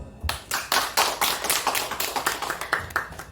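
Church congregation clapping together during a Sunday worship service, a run of sharp, fairly loud claps in a steady irregular rhythm lasting a few seconds, with no voices over it.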